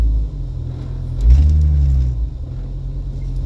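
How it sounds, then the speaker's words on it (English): Low, heavy rumble from the drivetrain of a 1996 Jeep Cherokee XJ 4x4, a steady engine drone that swells briefly midway and then settles back, close and loud with no talking. "So that was just some weird rumble."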